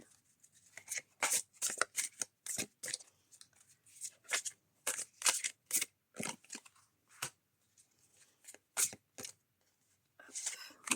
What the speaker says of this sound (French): je vais prendre les cartes mission de vie pour vous, groupe 2